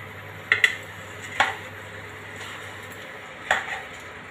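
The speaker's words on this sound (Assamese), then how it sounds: "এতিয়া ইয়াৰ ওপৰত আমি কাৱৈ মাছকেইটা দি দিম।" Kawai fish (climbing perch) set down into a pan with ground sesame, giving a few soft clinks and scrapes of cookware at close range, with quiet gaps between the bursts.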